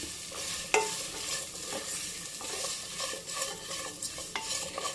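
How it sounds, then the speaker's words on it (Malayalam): Small onions sautéing over a low flame for pepper chicken, a soft, steady sizzle with occasional sharp spatula clicks against the pan, close but fairly quiet, with no voices. "ചെറിയ ഉള്ളി നല്ലപോലെ വഴറ്റിയെടുക്കണം."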